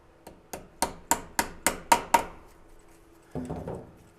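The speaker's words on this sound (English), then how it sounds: "to get them out, you have to use a slide hammer to get them out" Sharp metallic knocks from a slide hammer pulling parts out of a 6L90 transmission, seven evenly paced strikes followed by a short pause and a softer rattling clatter, close and with no talking.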